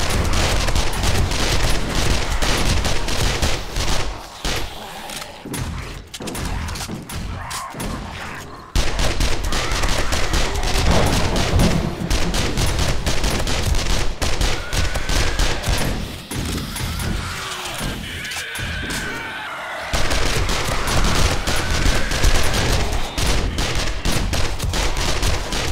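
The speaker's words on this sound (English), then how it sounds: "Shotgun turrets are still going, or some of them are anyway." Shotgun turrets blast away during a horde night in 7 Days to Die at insane nightmare difficulty, a dense, continuous barrage of loud overlapping gunfire with brief lulls and mechanical clatter.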